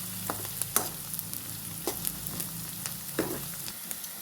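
Curry leaves, roasted peanuts and turmeric fry in oil in a pan for kande pohe while a spoon stirs them. Close, crackly sizzling is broken by sharp scraping clicks at an irregular pace, with no talk.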